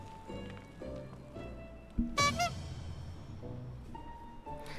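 A honking, goose-like bird cry from a Final Fantasy XIV encounter rings out loud and clear over soft game music, a short burst of calls standing out above the background melody.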